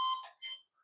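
A short electronic beep from a drone's ESC during throttle calibration, bright and tonal, followed by a second beep and a tiny faint chirp, close and clear with no voices.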